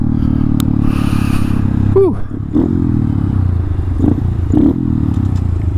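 Motorcycle with the exhaust baffle removed, fitted with a DHM piston, riding on a chilly road: a loud steady engine drone runs throughout, dipping briefly as it shifts, with a short exhale from the rider.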